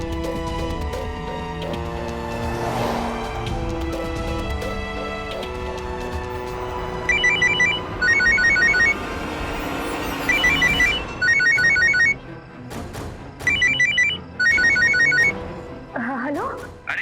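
A telephone rings in repeated bursts of bright trilling tones, loud and close, over background music and voices.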